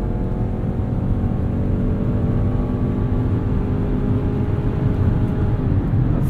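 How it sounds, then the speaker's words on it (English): A Ford Escape plug-in hybrid SUV with 221 horsepower under full-throttle acceleration, a steady droning engine and road roar heard from inside the cabin, even and continuous with no talking. "A very respectable amount of acceleration from this escape plug-in hybrid."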